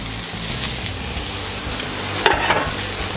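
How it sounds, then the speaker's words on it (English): Yellow noodles for Hokkien mee fry in a hot, lightly oiled pan, a steady close sizzle carrying through with soft scraping and stirring clinks as they are turned. "So you fry the yellow noodle first because it still has that ghee flavor."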